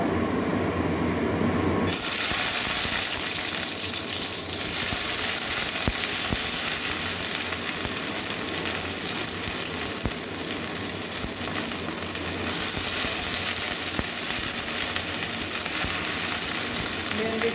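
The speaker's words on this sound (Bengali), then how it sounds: "তেল গরম হয়ে গেছে এবারে ভেন্ডিটা ভেজে নেব" Okra (bhindi) frying in hot oil for a lentil dal, a dense, continuous close sizzle that begins abruptly after a short quieter stretch and then holds steady and loud, with no voices.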